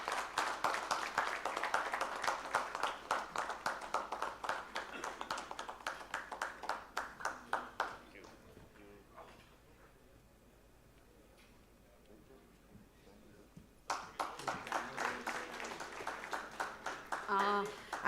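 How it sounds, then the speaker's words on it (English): An audience at a silver jubilee ceremony applauds in two bursts of clapping, with a quieter gap of murmuring between them, fairly distant and uneven in rhythm. "A big round of applause, please."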